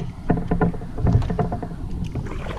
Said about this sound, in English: paddling away